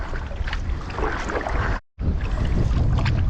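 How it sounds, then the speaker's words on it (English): Strong wind buffets the microphone on a lake during stand-up paddleboarding, a loud continuous roar that drops out for a split second partway through. "this wind's brutal."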